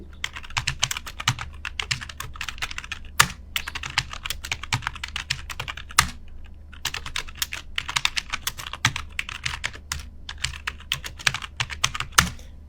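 Someone types steadily on a computer keyboard, a close run of rapid clicking keystrokes broken by a few short pauses, with no talking.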